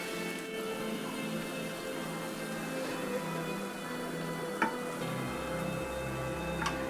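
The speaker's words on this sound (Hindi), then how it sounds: "हरी मिर्च और अदरक हो गए हैं। अब हम तड़का लगा लेते हैं।" Hot desi ghee tempering with green chilli and ginger strips is poured over soya keema in a pan, giving a steady crackling sizzle with small ticks and pops, close and moderately loud, with no talking.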